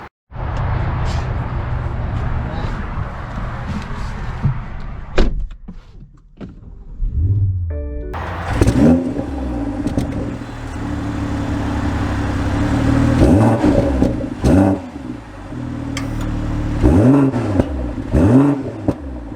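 A 2023 BMW M440i xDrive sets off after a quiet stretch with a few clicks: the engine rises into revving pulls that swell and ease several times, fairly close and loud, with no talk.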